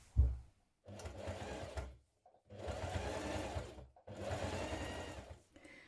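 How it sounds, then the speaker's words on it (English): A domestic sewing machine runs a straight line of top stitching down the side of a hooded jacket in three long, steady runs with short silent gaps between them, close and clear. "So it's one straight line of top stitching going all the way down this side."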